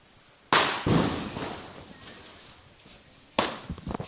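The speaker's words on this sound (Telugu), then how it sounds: "మన ఊళ్ళో అయితే టపాసులు కలుస్తున్నారు" Firecrackers burst during village Diwali celebrations: a sharp loud bang followed by a long fading crackle and rumble, then a second close blast near the end with scattered pops.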